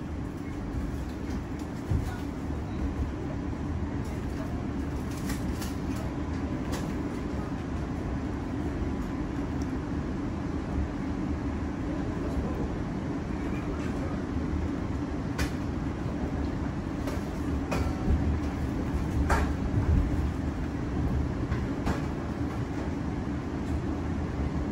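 An Argo Dwipangga executive long-distance train runs alongside a KRL commuter train near Bekasi, heard from on board as a steady, dense rumble of wheels and carriage noise with occasional faint clacks.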